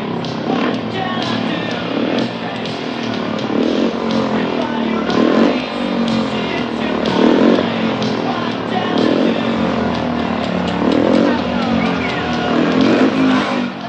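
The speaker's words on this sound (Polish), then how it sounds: "Cudów zręczności dokazywali motocykliści." Motorcycles performing stunts at a 1980s Polish outdoor show: steady loud engine drone with repeated revving surges over about fourteen seconds, under crowd-like background noise.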